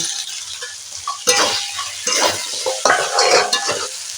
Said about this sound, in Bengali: এইগুলো এইভাবে একটু কষিয়ে নেব একটু অল্প পরিমাণে জলটা দেবো যাতে না বসে যায়